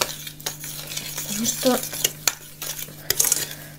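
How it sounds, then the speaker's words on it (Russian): A spoon stirs a very thick oatmeal cookie mixture in a bowl, giving irregular soft scrapes and occasional clinks against the bowl, close and fairly quiet, with a brief spoken phrase and a steady low electrical hum underneath. "Пока такая очень густая смесь, я пользуюсь ложкой."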